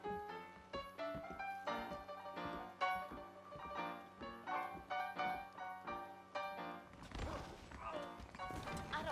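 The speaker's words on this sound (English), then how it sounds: "I got the horses saddled up and ready out front" Horses in the video game Red Dead Redemption, with hoof clops and snorts set against a busy game soundtrack and scattered impacts, followed by a burst of noisy clatter near the end.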